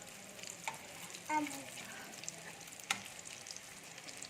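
A piece of egg omelette fries in a pan with a faint, steady sizzle and a couple of brief soft clatters from turning it.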